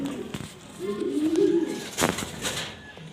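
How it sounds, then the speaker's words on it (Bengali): A male Aladdin line pigeon coos in soft, low rolling phrases, close and fairly quiet, with light rustling and a few faint background noises. "আলাদিন লাইনের নর কবুতর"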